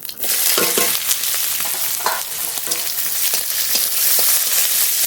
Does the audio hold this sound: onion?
yes